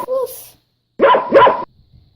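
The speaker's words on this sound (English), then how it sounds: "the dog says," A dog barks twice in quick succession, with two sharp, close barks right after a brief spoken word, then silence.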